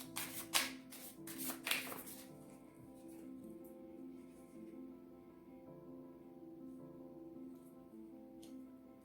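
Tarot cards being shuffled in a few quick riffling bursts near the start, then a soft continuous hum with light card handling.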